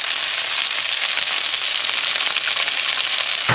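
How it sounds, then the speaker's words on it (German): Beef goulash searing in a hot pan, a loud continuous sizzle and crackle of frying meat close up, steady throughout with no talking. "Jetzt der Gulasch schön braun angebraten."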